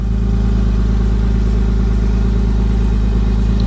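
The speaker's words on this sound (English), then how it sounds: "Starts right up, idles well." A restored 1968 Mercedes-Benz 280SL Pagoda idles steadily up close, a loud, even engine drone with a constant low rumble and no revving throughout.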